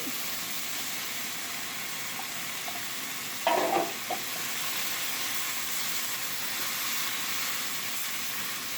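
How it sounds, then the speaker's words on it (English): Bacon, turkey and chicken sauté together in one pot, giving a steady close sizzle and frying hiss that runs throughout, broken once by a short clatter of stirring. "But we'll let it saute down a little bit as well."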